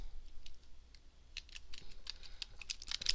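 Light, fast typing on a computer keyboard, soft irregular key clicks rising in density toward the end, faint against a low steady background hum.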